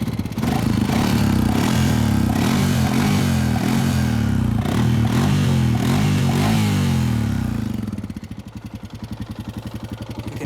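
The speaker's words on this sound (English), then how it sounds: "You can hear, like I said, the valve clatter." A Honda Rancher 420 ATV engine in need of a top end idles with a loud, close mechanical valve clatter, a steady ticking churn that thins out and pulses near the end.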